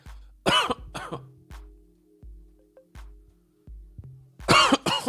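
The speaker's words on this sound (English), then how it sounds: "Coughing into the microphone." Several harsh coughs and throat-clearing bursts sound very close to the microphone, in two clusters at the start and end, with quieter thumps in between.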